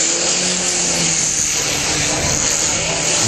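An aerobatic aircraft performing spins and hovers at a small air show produces a constant loud engine and propeller drone, steady and continuous, with no one talking.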